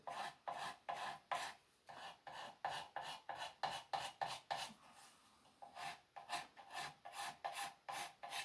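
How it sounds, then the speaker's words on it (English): A hand scraper with plain square edges scrapes tool teeth marks out of the wood of a handmade chair, giving a steady run of close, loud rasping strokes with short pauses between them. "then you come back in with your scraper and scrape those teeth mark out of there"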